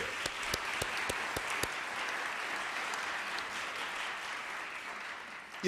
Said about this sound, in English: So a round of applause for you.